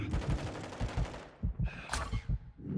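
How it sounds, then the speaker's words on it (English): Rapid automatic gunfire in Call of Duty: Modern Warfare 3 during a hardpoint match, a close, loud stream of bursts with short gaps and a bright metallic ping midway. "Taking fire!"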